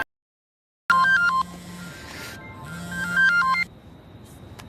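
A phone ringtone of quick melodic electronic beeps sounds twice in close succession over a low hum, fairly loud and near, then cuts off to quiet background.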